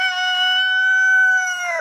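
A rooster, one of an older flock kept with its hens in a hot-climate coop, gives a single sustained crow-like call of nearly two seconds, steady and fairly loud, ending with a falling tail.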